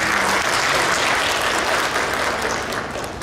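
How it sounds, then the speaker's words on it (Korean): Audience at a university industry-academia exchange event in Korea gives the award winners a big round of applause, a dense, loud wall of clapping that holds steady, then tapers slightly near the end. "다시 한번 큰 박수 부탁드릴게요"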